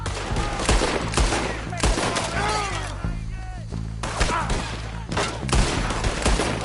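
Dense, sustained gunfire bursts from a Red Dead Redemption 2 shootout at a distillery, loud and continuous with rapid overlapping shots, while voices shout and talk over the battle.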